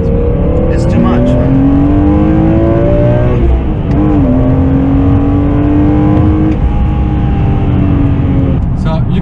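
BMW E92 M3 engine pulls loudly and continuously as the car drives, its steady raspy drone shifting pitch with a clear gear change midway, with talk running over it.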